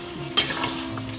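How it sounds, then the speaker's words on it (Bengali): Chicken masala cooking down with yogurt and a little water in a pan, with a low sizzle and one sharp scrape of a spoon against the pan. "সামান্য পরিমাণ জল দিয়ে দেওয়া হলো, এখন আর একটু ভালো মতন কষিয়ে নিতে হবে"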